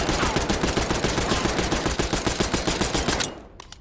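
Sustained full-auto burst from a Tanto .22 SMG in a video game, a rapid, evenly spaced rattle of loud close shots that runs for about three seconds and then cuts off abruptly.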